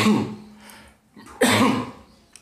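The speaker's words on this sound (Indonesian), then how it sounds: "Sorry, aku masih batuk-batuk juga." A person coughs twice, close up, with a short pause and a breathy gasp between the harsh bursts.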